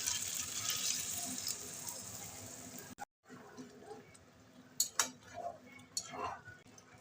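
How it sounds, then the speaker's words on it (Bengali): Water rinsed out of a chicken marinade bowl is poured into a pan of chili chicken, a running, splashing pour in the first half, then a pause, then scattered clinks and splashes of cookware with faint background voices. "চিকেনের যে বাটিটাতে আমি মাখিয়েছিলাম ম্যারিনেট করেছিলাম সেই জলটা বাটিটা ধুয়ে দিয়ে দিচ্ছি"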